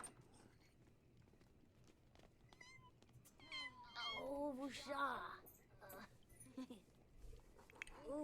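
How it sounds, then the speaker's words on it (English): An elderly cat and her two newborn kittens meow in The Sims 4, several thin high mews and a louder cluster of cries bunched together, heard under and between a person talking. "An elderly cat, you guys, just gave birth to 2 kittens."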